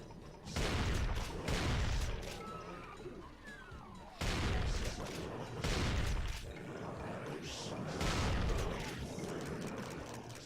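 Video game firefight on a map called High Tech Grave, with bursts of gunfire, booms and crashing impacts coming in heavy repeated waves, loud and dense with no voices.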